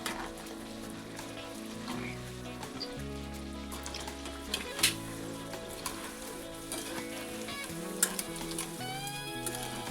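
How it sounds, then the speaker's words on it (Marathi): Cabbage Manchurian pakoda fritters sizzle steadily in hot oil, a dense continuous crackle with occasional louder pops, close by and without talk. "ते असे लालसर होईल असे तळून घ्यायचे आपल्याला."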